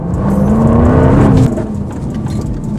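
A Jaguar XKR's 5-liter supercharged V8 revs up loudly and close by, its tone climbing and holding before dropping off abruptly into a lower idle-like hum.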